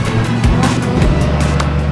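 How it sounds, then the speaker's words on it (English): A supercharged BMW V8 in a Nissan S14 drift car roars continuously nearby with rising and falling engine tones, a dense, loud motor drone at a circuit. "Supercharged BMW V8 in an S14 with see-through doors."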